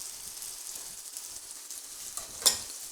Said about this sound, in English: I've got it sizzling away.